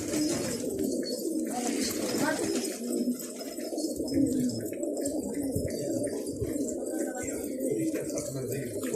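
Pigeons cooing steadily close by, a flock kept by a Jordanian pigeon fancier, with soft chirps and occasional quiet talk in the background.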